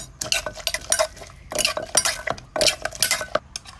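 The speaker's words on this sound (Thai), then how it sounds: "เดี๋ยวก็ตำให้เขาเดี๋ยวก็ตำให้เขากันครับ" Boiled eggplant and fresh chilies pounded in a mortar for an apple snail dish, heard as a run of close, rhythmic knocks and scrapes in uneven bursts with brief pauses between.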